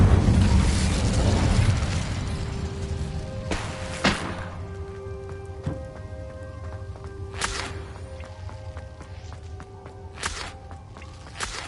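Glacius and Incendio spells cast in Hogwarts Legacy amid a fight with spiders: an opening roaring burst, then sharp cracking impacts and chimes with ringing tonal tails, scattered over several seconds at moderate loudness.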